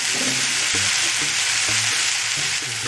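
Cucumbers are stirred in a warm pan with the heat turned off while a red cabbage salad is made. A constant soft sizzle runs throughout, with spoon scrapes and taps at irregular intervals.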